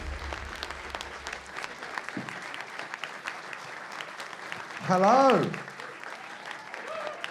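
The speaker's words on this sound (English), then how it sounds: "That was a polite clap, thank you." Audience at a live comedy podcast recording at the Edinburgh Fringe gives a polite round of clapping, fairly quiet and scattered, while someone speaks briefly over it.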